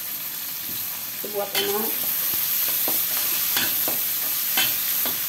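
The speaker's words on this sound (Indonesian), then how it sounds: "Tomat satu buah, saya tumis." Tomato stir-fried in a sizzling pan for a home-style dish, with steady frying hiss and several sharp spatula scrapes and taps across the clip; a brief spoken phrase early on.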